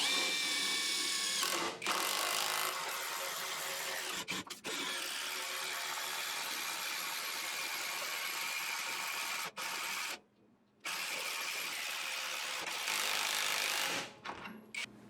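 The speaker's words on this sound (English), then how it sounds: "Now I'm going to try putting this giant lag screw I found into this block of wood. This is 6 inches thick Douglas fir, and this is a 1/2 inch lag screw" A cordless impact wrench drives a half-inch lag screw into a six-inch block of Douglas fir, loud rapid hammering bursts running near-continuously with a few brief pauses, close up and without speech.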